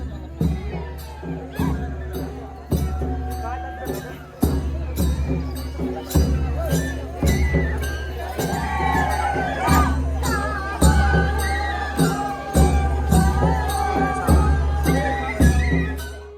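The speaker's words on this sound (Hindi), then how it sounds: "हम मंदिर में आए तो हमने देखा यहाँ शिव भक्तों की बहुत भीड़ थी और वो मस्ती में झूम रहे थे।" A crowd of Shiva devotees fills an ancient Himalayan temple complex in Bharmaur, with a steady drum beat and overlapping voices in a loud, continuous hubbub.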